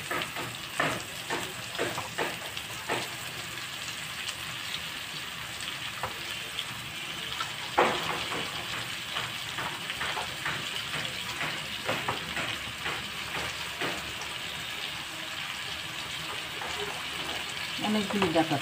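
Red amaranth stalks added to potatoes already browned with turmeric, chilli and salt in a pan, with a steady close sizzle of frying under clinks and scrapes of stirring, alone without talk.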